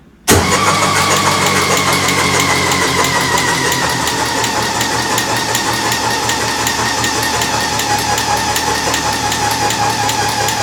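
A car engine fitted with new CB Performance square port cylinder heads catches on its first start after cranking, then settles into a loud, steady idle that runs continuously close by with no talking.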